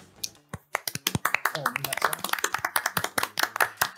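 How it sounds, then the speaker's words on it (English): Dense clapping from a debate audience, starting after a brief pause and building into steady applause that continues to the end. "give a huge round of applause to our debaters for the affirmative"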